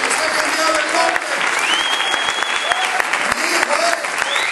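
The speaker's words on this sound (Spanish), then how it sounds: "Más fuerte las palmas" A church congregation claps hands loudly during a worship service, a dense, continuous burst of applause with a voice shouting over it throughout.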